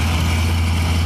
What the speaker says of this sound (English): Now we're running this heavy dune buggy.